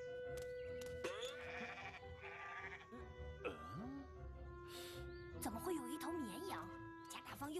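Sheep bleat repeatedly, several wavering calls overlapping one another at close to moderate distance, with quiet background noise between cries.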